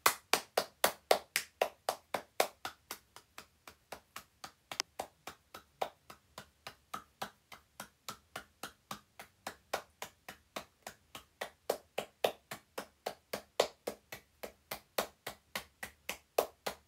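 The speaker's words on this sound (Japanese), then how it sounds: "この拍手の仕方結構疲れ" One person claps steadily at a slow, even pace, with dozens of sharp, close hand claps in a regular rhythm and no talking over them.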